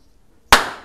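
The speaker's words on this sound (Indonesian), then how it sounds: "kita nyalakan petasan dulu guys ya" A single sharp firecracker bang, loud and close, followed by a short decaying tail after a moment of near silence.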